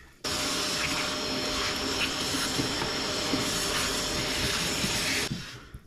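A Triton MOF001 router starts up with its dust extraction running, giving a loud, steady high-pitched whine and hiss that holds for about five seconds before cutting off abruptly.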